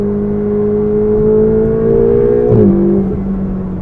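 A Ferrari 488 GTB engine pulls hard from inside the cabin, its steady rising tone interrupted by a quick short shift that drops the pitch before it climbs again, loud and close with no talk.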